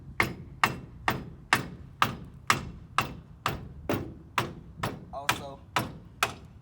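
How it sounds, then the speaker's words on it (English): An old hammer strikes metal on a truck in a steady series of about twelve sharp, evenly spaced blows, close and ringing briefly, with a short bit of speech near the end. "About time for a new hammer."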